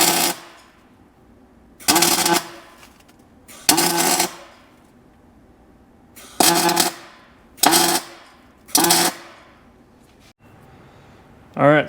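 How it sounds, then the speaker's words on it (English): Six short, loud bursts of crackling tack welding close up on a Jeep Grand Cherokee WJ Dana 44A differential, each bead lasting about a second with quiet pauses between them. "So we're just going to tack weld all 3 shut and not worry about it again."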